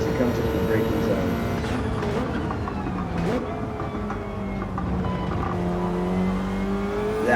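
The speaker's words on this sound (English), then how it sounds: "Love the sound of this BRZ, man" A Subaru BRZ race car on the Daytona International Road Course brakes into a corner and then accelerates, its engine note rising and falling with crackles, steady and fairly loud under commentary from someone talking throughout.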